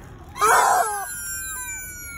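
A young child lets out one loud, wailing scream that trails off into a drawn-out moan, close by, with a noisy room behind.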